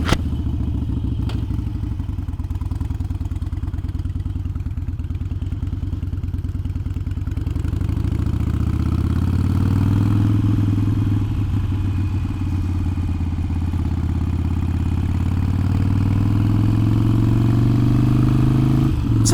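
A Harley-Davidson Iron 883 Sportster pulls away and rides, its loud low V-twin rumble steady and close, rising in pitch as it gains speed with occasional clattering thumps.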